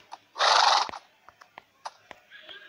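A Minecraft horse lets out one loud, bright neigh, followed by scattered soft clicks and taps of game sounds around it, with no talk.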